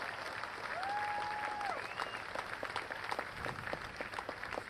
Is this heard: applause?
yes